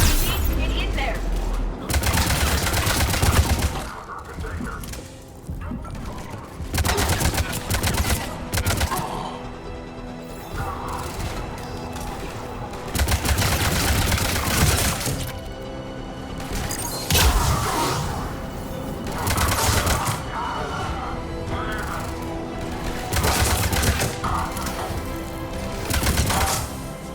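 Mass Effect 3 combat gunfire crackles in repeated bursts across a long stretch, mixed with game music, ambient effects and occasional voices.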